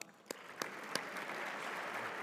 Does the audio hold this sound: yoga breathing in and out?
no